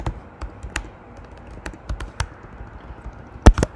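Rapid, irregular clicks of keys being typed on a computer keyboard during a coding session, fairly close and crisp, with a tight burst of louder strokes near the end and no talk.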